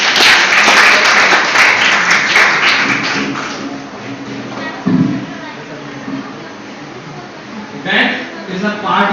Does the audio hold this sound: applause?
yes